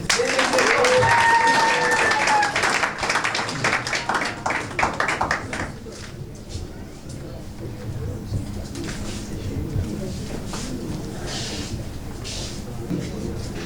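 Wedding guests break into applause at a French wedding ceremony, a dense spatter of claps rising and thinning over several seconds. Pigeon-like cooing and a voice come before it.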